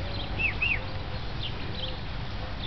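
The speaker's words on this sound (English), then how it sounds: "Good duckies." Ducks give a few short, high chirping calls close by over a low background rumble, with a couple of fainter calls later.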